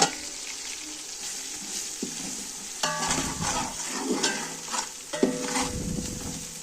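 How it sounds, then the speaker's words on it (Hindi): Onion with garlic-ginger paste and spices frying in a pot for kadhi pakora, a steady sizzle with bursts of stirring and spoon scrapes growing busier midway, no voices. "अब इसे अच्छी तरह भूनूंगी, फिर इसमें मसाला ऐड कर।"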